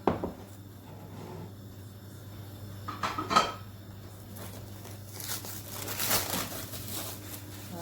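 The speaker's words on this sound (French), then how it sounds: "c'est la cocotte minute de ma mère qui doit avoir une bonne cinquantaine d'années" A roughly fifty-year-old pressure cooker pot is handled in a home kitchen, with scattered metallic clanks, knocks and scrapes of lid and pot, quiet and close, over a low steady hum and with no talking.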